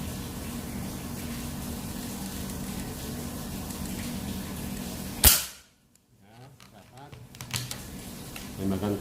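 A single sharp crack from a Predator Monel folding PCP air rifle at 4000 PSI with a 50 cm Yumaja barrel, loud and close, cutting through steady background noise, followed by a brief hush and faint rustling.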